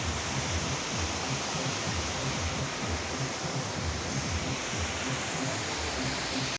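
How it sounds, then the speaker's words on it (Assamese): Hothoti waterfall in Nagaon heard from close behind the falling water: a steady, dense roar of rushing water that stays loud and unbroken throughout, with no voices over it. "মই থিয় হৈ আছোঁ ঠিক জলপ্ৰপাতটোৰ পিছফালে"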